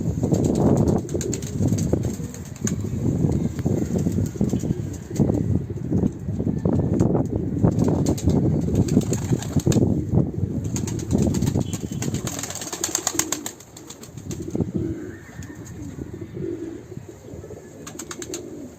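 Breeding pigeons coo steadily in a busy flock in a coop, with wings flapping and feet shuffling on a hard floor, fading to softer cooing toward the end.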